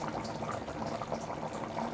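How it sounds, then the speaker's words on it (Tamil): Mixed vegetable white kurma bubbling and simmering steadily in a pot, a close, continuous boil with popping bubbles. "இதுமாரி நல்லா கொதிக்கிட்டுங்க."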